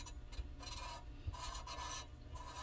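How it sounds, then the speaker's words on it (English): A piston being lapped, worked in and out of its casing, making quiet rhythmic rasping strokes of metal rubbing on metal, faint and close with no voices. "you are just going to work this whole contraption in and out of the problem casing"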